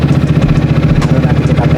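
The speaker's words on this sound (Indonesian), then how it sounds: "motor udah nyala" A Yamaha XMAX scooter engine idles close by, a loud, steady low thrum with an even pulsing beat and no talking.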